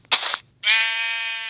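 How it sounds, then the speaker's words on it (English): Two Minecraft sheep bleats, close and clear: a short rough bleat followed by a longer, steady, tonal one after a brief gap. "Look at the sheep."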